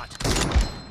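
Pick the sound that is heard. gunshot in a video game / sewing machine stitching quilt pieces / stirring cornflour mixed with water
gunshot in a video game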